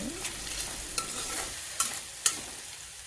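Peanuts and cashews fry in oil with a soft continuous sizzle, punctuated by three or four sharp clicks of a spoon stirring against the pan.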